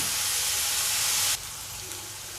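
Chopped onion for banana flower bhaji sizzles in a hot pan with a bright, steady hiss that drops abruptly to a quieter simmer partway through, close and continuous with no voices.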